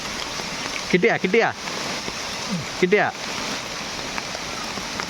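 Steady rain hisses down outdoors in a forest beside a water tank, a continuous wash of soft noise under a voice speaking close by.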